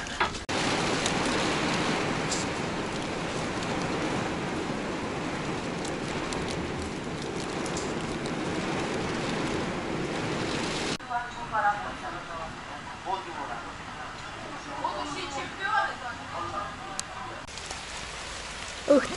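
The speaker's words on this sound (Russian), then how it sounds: "Он уже сегодня второй раз идет. Прям ливень." Heavy downpour hisses steadily for about eleven seconds, then eases into lighter rain with scattered drops and small splashes.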